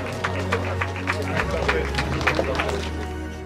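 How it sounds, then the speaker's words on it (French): An audience claps for finishers at a race in Thieusies, Belgium: quick, fairly regular hand claps from a small crowd over a low hum, with voices murmuring in the background. "on peut les applaudir, bravo"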